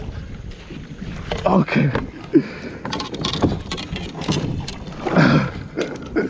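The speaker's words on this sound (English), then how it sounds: "We're in the rapids right now." River rapids rush around a fishing boat in South Carolina, a turbulent broadband wash with wind buffeting the microphone and bursts of splashing, while people talk and exclaim over it.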